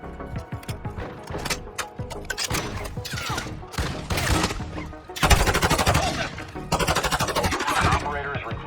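Gunfire in the video game Call of Duty Modern Warfare 2, DMZ mode: bursts of rifle shots build into sustained loud automatic fire, mixed with game voices and shouted callouts.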